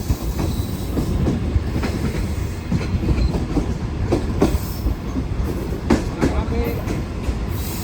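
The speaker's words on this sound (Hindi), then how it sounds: "शहजादपुर स्टेशन पर हमारी ट्रेन पहुंच रही है" A passenger train pulls into Shahdadpur station at night. Rumbling wheels and rhythmic clacks over rail joints fill the whole stretch at a steady, moderately loud level, with faint background voices.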